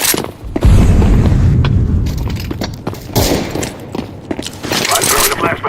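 In Counter-Strike 2, an incendiary grenade is thrown and bursts in a loud boom amid scattered close gunfire and clattering game noises, with a player's voice talking over the action.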